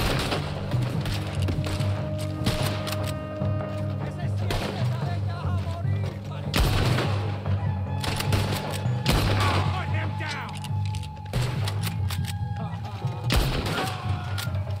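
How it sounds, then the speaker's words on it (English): Shotgun blasts from Red Dead Redemption 2 boom out as several sharp, separate shots spaced a few seconds apart amid game background noise, with a voice talking over them. "Shotgun to the face."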